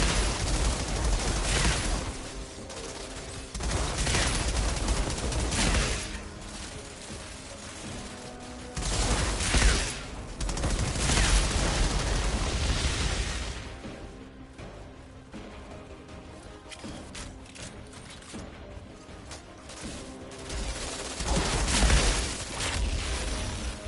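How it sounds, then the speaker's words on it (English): Mortar fire and explosions in the video game Outriders arrive as repeated heavy bursts of rattling fire and booming blasts, loud and close, swelling and fading in waves with quieter stretches between. "Stop shooting mortars at my ass"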